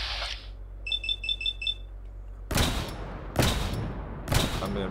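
Three loud gunshots from a weapon in Fallout 4 with the America Rising 2 mod, evenly spaced, each a sharp broadband crack with a short tail, preceded by a brief chiming beep pattern over a low hum.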